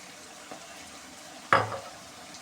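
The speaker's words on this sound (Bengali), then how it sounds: "এভাবে আমি 5 মিনিট ভেজে নেব" Chicken chaap frying in a pan, with a faint steady sizzle and one sharp scrape or clatter of a spoon partway through.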